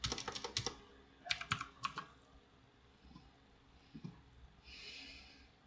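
Computer keyboard typing in two quick bursts of clicking keystrokes, close and fairly soft, followed by a quiet pause with a faint breath or snort near the end.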